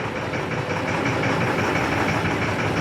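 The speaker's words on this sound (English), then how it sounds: "the truck's over there running and made a liar out of me" An M1078 LMTV military truck engine runs steady with the hand throttle raised, giving a loud, continuous diesel drone with rough, knocking vibration and no break.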